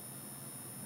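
A high-frequency blackhead scraping blade device emits a constant, steady electronic buzz with a thin high whine, even and unbroken throughout.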